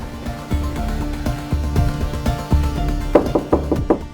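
Knocking on a closed, locked door in an Indonesian TV drama household, a series of sharp raps in an uneven rhythm, steady at first and then quicker and louder toward the end, with no talk.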